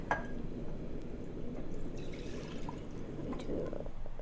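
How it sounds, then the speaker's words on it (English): Whole milk poured into a pan gives a soft, steady liquid splashing and trickle that runs the full length at low volume, with faint kitchen clatter and no talk. "So we're going to pour in our 300 grams of whole milk here."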